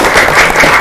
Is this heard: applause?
yes